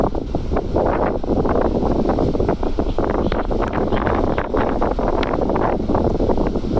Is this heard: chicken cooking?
no